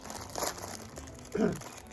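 A bag of barbecue potato chips crinkles at an outdoor July 4th meal, with two short bursts of crackling plastic, the second louder, close to the listener.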